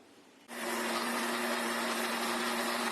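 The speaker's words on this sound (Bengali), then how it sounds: "এখন এই জেলটা আমি ব্লেন্ডারে ব্লেন্ড করে নিব।" A blender blending aloe vera gel switches on abruptly and runs with a steady, high whirring drone, loud and unbroken.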